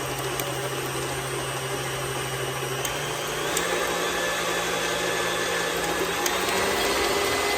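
A stand mixer, latched down, runs steadily on its stir speed while mixing yellow cake batter, a continuous close motor whir with a faint rise in pitch partway through.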